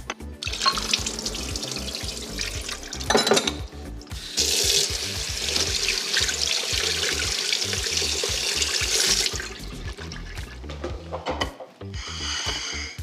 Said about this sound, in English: So I'm gonna strain these out and rinse them off so you don't really get any of the coconut flavor.